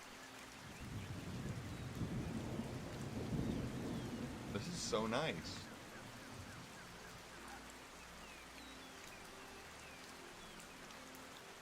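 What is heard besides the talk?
rain and thunder in a video game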